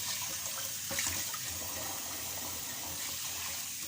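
Rice is washed by hand in water for a braised salmon and peas dish, making a continuous faint splashing and swishing with a few sharper sloshes, and no voices.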